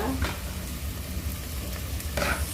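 Goat innards for papaitan sautéing in a pan, a steady close sizzle and fry with a couple of brief stirring scrapes, no voices.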